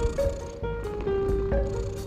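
A very small cat purrs close by, a continuous low rumbling hum with slight swells in its rhythm, heard alone without any voices.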